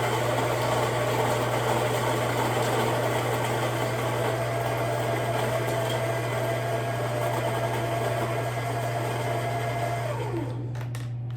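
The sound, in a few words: Baratza Virtuoso burr grinder grinding coffee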